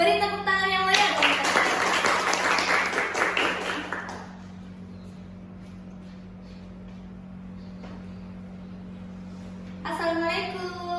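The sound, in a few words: audience clapping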